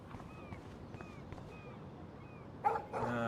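A dog in the video game Life is Strange gives a few quiet, evenly spaced yips and barks, followed by a brief burst of louder game noise at the end.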